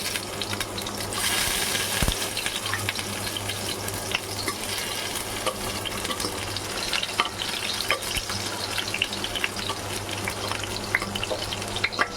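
Two large chopped onions sizzle in hot oil in a pan, a steady, close, crackling hiss that runs throughout with occasional stirring clatter and no talking.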